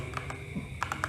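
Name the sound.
typing on Gamen Titan Elite mechanical gaming keyboard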